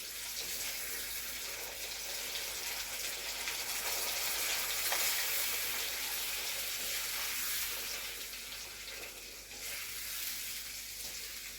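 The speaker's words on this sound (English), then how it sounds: "So now we can add the sauce." Tomato sauce being stirred into a pan of frying meatball sauce with olive oil, onion, meat and garlic gives a steady, loud sizzle with a wet, hissing texture that continues evenly throughout, with no talking.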